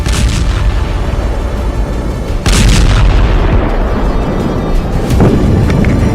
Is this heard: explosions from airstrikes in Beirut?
yes